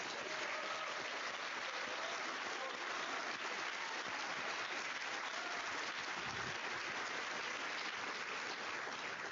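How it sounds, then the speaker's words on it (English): Sustained audience applause for PhD graduates at a medical college graduate school hooding ceremony, a dense, even wash of many hands clapping throughout, steady and fairly loud with no talk over it. "please join me in another round of applause for our PhD graduates"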